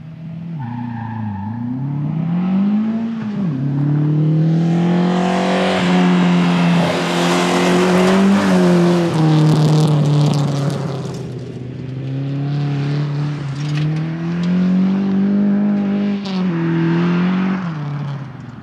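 A Ford Escort rally car pulls away and accelerates during testing, its engine revving loudly and close with rising and falling pitch through the gears and faint tire noise.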